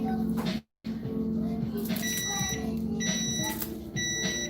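A kitchen timer going off during Christmas pancit cooking: repeated high electronic beeps in short bursts over a busy kitchen background, while people talk nearby.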